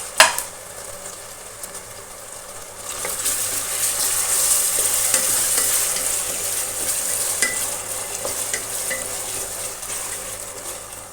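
Peeled medium tomatoes cook in a pan for a Lahori chickpea curry, a spoon scraping and stirring through a close, steady sizzle that swells after a sharp clink at the start.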